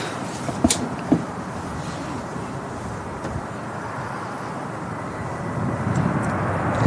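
A Malta Air Boeing 737 MAX 8200 jet at Manchester Airport makes a steady, distant broadband engine roar, with a couple of brief knocks early on and the rumble swelling slightly at the end.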